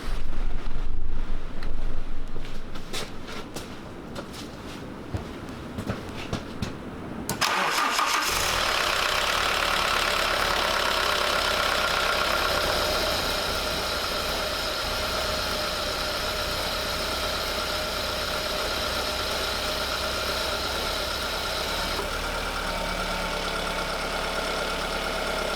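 An Alfa Romeo 156, overdue an oil change with its oil overfilled, cranks and starts after a few seconds of quiet rustling, then settles into a steady, slightly noisy idle that stays close and even throughout.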